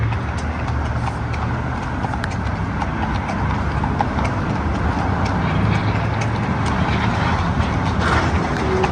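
Steady clip-clop of horse hooves on an expressway during parade training, continuous and fairly close, with a constant traffic rumble underneath and no talking.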